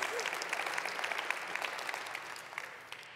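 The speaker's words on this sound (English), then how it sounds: "clap for Ryan" Quiet, steady applause from a church congregation for a pastor at a Sunday evening service, many hands clapping at a distance for a few seconds and fading slightly toward the end.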